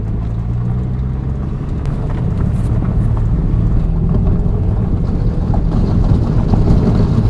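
A Scion xB with a swapped engine runs steadily, a loud, continuous low rumbling drone that holds even throughout without revving, close to the car with no voices.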